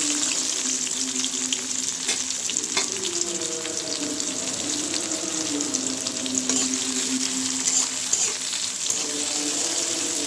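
Sliced onion and green chilli fry in hot oil for a mola fish dish, giving a steady close sizzle with occasional stirring scrapes and a soft tonal hum, no voices.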